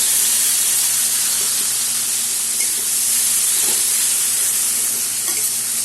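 A paste of eight green chilies and an inch of ginger sizzles loudly and steadily in a hot pan of fried potatoes, a continuous close hiss with faint stirring scrapes.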